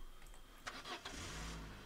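A car engine cranks and catches with a brief burst, then settles into a low idle rumble in the video game Arma 3. It is fairly quiet and short.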